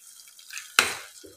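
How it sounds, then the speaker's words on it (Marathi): Water is poured into a cabbage manchurian mixture in a kitchen, a sudden splash after a quiet moment that quickly fades into a faint trickle. "आता आपण यामध्ये थोडंसं पाणी टाकूया"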